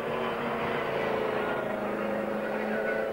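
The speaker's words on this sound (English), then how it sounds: "he guns the motor and away goes the Ascari" An Ascari GT race car at Donington during a 1997 British GT Championship round pulls away out of the pits, its engine a steady, loud, droning roar with a continuous tonal hum and no clear breaks.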